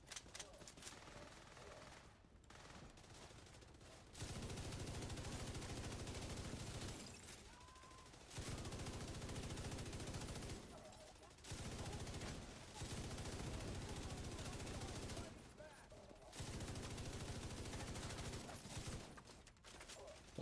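Gunfire is exchanged in a shooter game, with several sustained bursts of automatic fire separated by short pauses. The shooting sounds fairly quiet and continues throughout.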